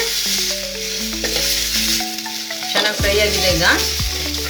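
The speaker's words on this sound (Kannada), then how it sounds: "ನೋಡಿ, ಈಗ ಇದು ಚೆನ್ನಾಗಿ ಫ್ರೈ ಆಗಿದೆ" Green tomatoes being fried in a pan for chutney sizzle loudly and continuously, with stirring scrapes of a utensil and a few humming tones underneath.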